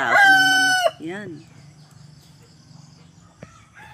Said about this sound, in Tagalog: Naririnig mo yung mga tilaok ng manok.